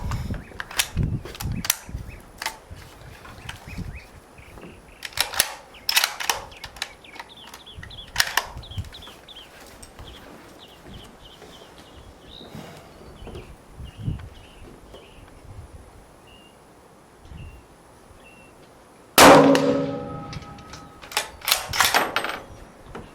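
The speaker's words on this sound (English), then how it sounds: "We'll try a shot or two and see if I can hit anything." Several sharp rifle shots fired from a sling-supported position, loud close cracks spread across the span, with an especially strong blast near the end followed by a couple more quick reports.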